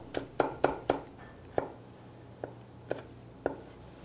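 A kitchen knife slices green bell pepper into thin julienne strips on a cutting board, giving about eight crisp, separate chopping taps at an uneven pace, close and clear, with no talk.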